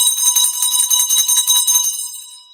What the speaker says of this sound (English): Bells to me.